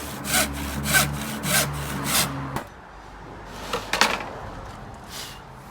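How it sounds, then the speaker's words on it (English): A handsaw cuts a scribe into a wooden panel with steady rhythmic rasping strokes, about six close strokes, then a pause and a few lighter strokes. "the handsaw is still the best way to cut this"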